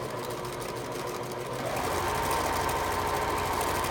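A sewing machine stitches fabric for a photo pillow, its motor whirring in a fast rhythmic chatter that picks up and grows louder partway through, close by with no voices.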